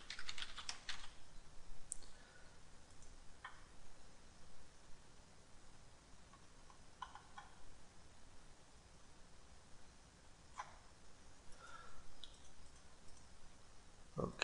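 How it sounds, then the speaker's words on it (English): Quiet typing on a computer keyboard, with bursts of soft, rapid key clicks, a few isolated louder taps and pauses between, close and faint against a steady hiss. "Name, you want to type in Windows 10."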